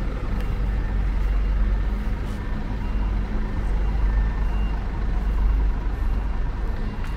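Aviação Cometa double-decker bus manoeuvring out of the Tietê bus terminal parking area, a steady low engine rumble with a repeating reversing beep over ongoing background vehicle noise.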